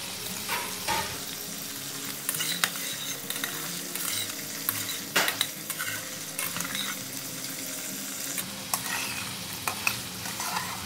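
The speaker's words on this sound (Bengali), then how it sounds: "এটা বেশি ভাজার দরকার নেই।" Frozen peas frying in a hot pan, with a steady close sizzle and repeated scraping stirs and utensil clicks throughout.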